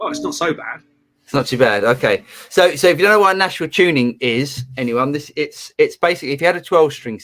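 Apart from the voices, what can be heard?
No distinct noise like a dog, phone or traffic.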